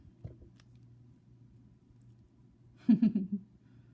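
Scissors or snips trimming the wire tail on a Swarovski bead necklace, one faint early snip and then a short cluster of close crisp cuts near the end, in a quiet room with no talk.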